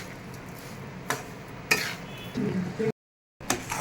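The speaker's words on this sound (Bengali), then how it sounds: "এবার আমি এটাকে ভালো করে একটু নাড়াবো যতক্ষণ আর চিনিটা ভালো করে মেল্ট হচ্ছে" Spoon stirring a coconut and sugar mixture in a pan on a gas stove as the sugar melts, with a few distinct scrapes and clinks against the pan over a low background, then a brief silence.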